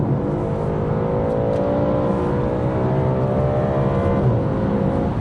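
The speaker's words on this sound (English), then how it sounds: "When I put it in dynamic mode and hammer down on the exhaust with the valves open," A 2015 Audi RS5's V8 engine revving hard in dynamic mode with exhaust valves open, its deep exhaust roar climbing steadily in pitch as it accelerates, loud and close throughout.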